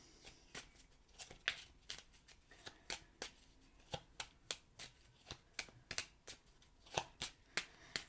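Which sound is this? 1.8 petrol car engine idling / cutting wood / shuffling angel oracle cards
shuffling angel oracle cards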